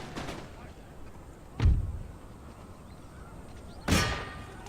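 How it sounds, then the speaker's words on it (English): Two heavy cannon booms in the Empire Total War battle game, a few seconds apart, each with a short rumbling tail over a quiet background of battle ambience. "We'll get his general killed with a couple cannon shots."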